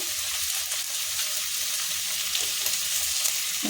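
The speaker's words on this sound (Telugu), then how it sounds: "ఇందులో ఉల్లిపాయ అవి వేయించుకోవాలి" Onions frying in oil for gongura (sorrel leaf) chutney make a dense, steady sizzle throughout, close and fairly loud, with no talking.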